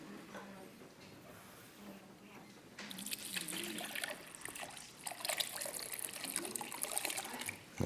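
Water poured into a container, a soft steady trickle that swells into a fuller, louder splashing pour about halfway through and keeps running to the end, with no talk over it.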